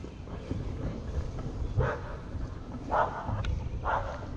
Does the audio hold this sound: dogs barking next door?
yes